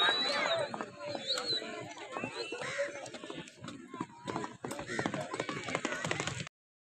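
Horse hooves pound in a fast gallop at a tent pegging celebration event in Gujrat, a rhythmic clip-clop run under an excited announcer's commentary and crowd chatter before cutting to silence.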